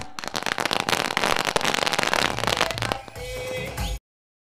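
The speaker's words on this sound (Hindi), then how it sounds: "पटाखों की आतशबाजी में मेहमानों का यहां पर स्वागत किया जा रहा है" Dense, rapid crackling bursts of firecrackers popping loudly and continuously to welcome guests at a cricket tournament match, then thinning into scattered crackles and hiss before cutting off abruptly.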